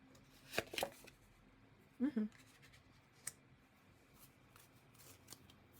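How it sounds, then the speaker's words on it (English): Tarot cards are shuffled and drawn by hand, giving a few short papery riffles and snaps close by, with a quiet pause between bursts and a faint tap near the end. "So I'm going to pull 3 more cards for that one."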